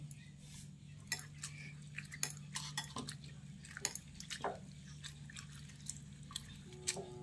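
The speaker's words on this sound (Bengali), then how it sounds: "এখন এই চিড়েটাকে 3-4 বার জল বদলে বদলে ধুয়ে নিতে হবে।" Flattened rice (chira) rinsed with water in a large bowl: soft intermittent sloshes, drips and light clinks of the bowl, quiet and close, no speech.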